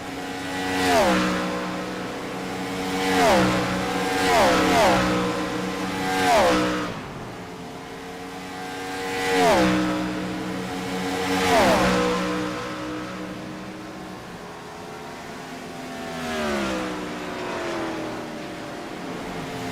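Stock race cars roar past one after another on the Homestead oval during a No Bull Racing Series race, each engine surging loud then fading with a falling pitch as the pack sweeps by in repeated waves.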